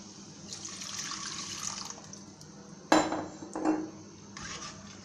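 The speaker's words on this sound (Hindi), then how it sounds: "और इसमें हम पानी डालेंगे।" Water poured into leftover batter in a cooking pot while making a savory dish, heard as a couple of short splashing pours with faint clinks of a pot or utensil against a quiet kitchen background.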